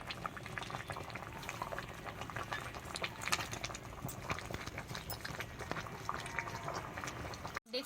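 Jackfruit and potato curry bubbling in a pot, a dense continuous simmer of small pops and gurgles, close and even throughout, ending with a brief cut-off.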